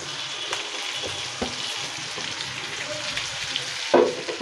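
Mixed winter vegetables and chicken stir-frying in a pan with soy sauce, a steady broad sizzle throughout with a sharper clatter near the end.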